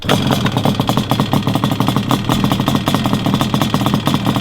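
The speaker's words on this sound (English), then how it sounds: "I really, really like this exhaust." Yamaha Banshee two-stroke twin idling through an aftermarket exhaust, a close, loud and rapid rhythmic popping putter that stays steady with slight blips, with no talk.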